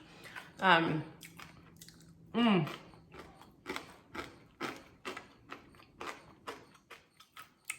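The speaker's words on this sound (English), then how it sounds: "That is a nice crunch." Crispy air-fried pickles crunched in two loud bites early on, followed by softer repeated chewing under quieter background sounds.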